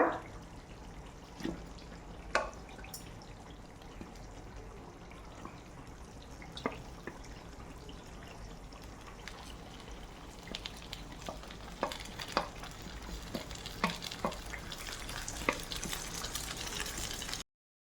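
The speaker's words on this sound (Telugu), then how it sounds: "ఇప్పుడు ఇందులో అయితే మనం ఈ చేపలను అయితే వేసేసుకోవాలన్నమాట" Small fish frying in a pan of ginger garlic paste for a Godavari village-style curry, a quiet steady sizzle with occasional pops and clinks, no talking.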